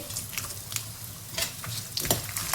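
Almonds, curry leaves and sliced coconut fry in hot oil for makhana chivda, a soft close sizzle broken by quick bursts of spoon scraping and stirring.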